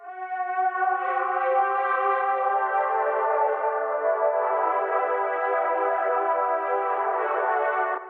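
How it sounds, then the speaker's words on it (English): Two layered synth string sounds, one with a slight bright high end, hold a soft, sustained moody chord with an echoey sheen, swelling gently and staying steady for about eight seconds. "And with the strings, I layered two of them."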